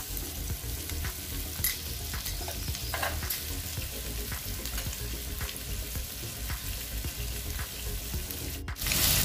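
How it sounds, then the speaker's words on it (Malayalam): Capsicum frying in a pan for chilli paneer, a continuous sizzle with scattered stirring scrapes and taps, close and steady with no talking. "അത് ഇട്ടിട്ട് വീണ്ടും നമ്മൾ ഇളക്കി കൊടുക്കണം"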